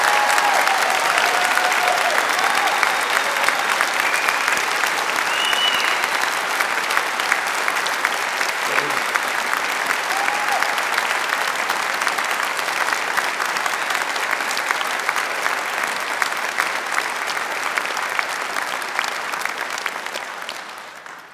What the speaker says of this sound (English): Can everybody in the room give them a big round of applause for what they've achieved?